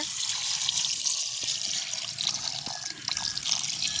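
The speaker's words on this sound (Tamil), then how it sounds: "இப்போ நாங்கள் அளவான தண்ணி விடுவோம் கச்சானா வீரத்துக்கு" Water pours steadily into a pot of peanuts with salt, set for boiling outdoors in a village garden, a close, continuous splashing trickle with a few small drips.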